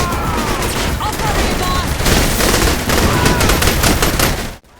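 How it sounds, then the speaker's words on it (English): Dense gunfire and explosions from the video game Saints Row: The Third on Nintendo Switch, a loud continuous barrage of shots and booms that cuts off abruptly at the end. "Explosions and most gun sounds are on point"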